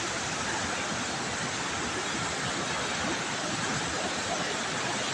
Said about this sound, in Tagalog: malalaki malalaking alon oh